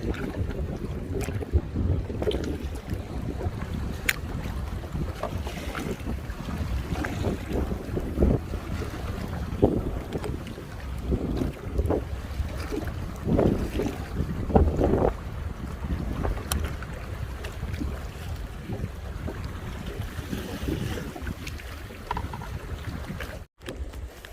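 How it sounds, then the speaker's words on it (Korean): Strong wind buffets a small fishing boat out on the water, a steady loud rush with gusty swells, lapping water and occasional knocks, with no voices over it. "바람이 막 부네."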